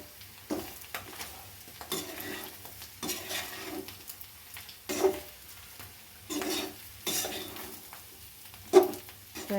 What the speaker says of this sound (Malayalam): സൗണ്ട് കേൾക്കുന്നത് ഒരു സൈഡിൽ ബീഫ് ഫ്രൈ ആയിക്കൊണ്ടിരിക്കുക. അപ്പോൾ അതിൻ്റെ സൗണ്ടാണ് കേൾക്കുന്നത്.